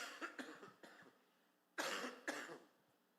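A man coughs in a quiet room, a run of softer coughs followed by two louder, harsher ones, close and alone with no talking.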